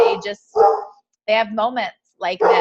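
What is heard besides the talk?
dog barking in the background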